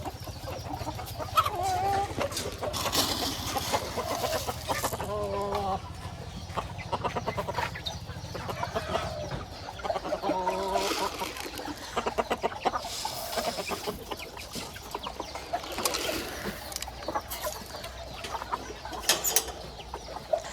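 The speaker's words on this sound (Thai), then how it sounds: "ตัวนี้พ่อไก่เอามาใหม่นะครับ" Young roosters clucking and calling at a farm, with repeated clucks and short crowing-like bursts, fairly close and loud, with no talk.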